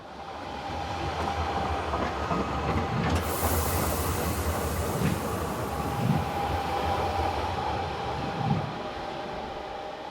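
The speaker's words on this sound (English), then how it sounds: "Our final scene shows one of the half-hourly arrivals from Schüftland, entering the modern station at Menziken." Train arriving at the modern Menziken station on a half-hourly service from Schüftland, a steady rolling rumble with rhythmic wheel clatter over joints and a hiss that rise slightly as it draws in.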